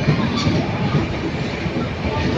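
The Mumbai–Kolhapur Mahalaxmi Express rolls into Karjat station with a continuous loud, steady rumble and faint rail clatter.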